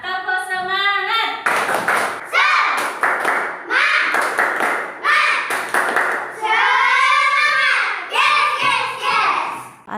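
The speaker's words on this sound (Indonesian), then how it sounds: "Tepuk semangat." A school class performs a rhythmic spirit clap, bursts of patterned clapping mixed with the children's chanting voices in a classroom, loud and close, with pauses between the clapping phrases.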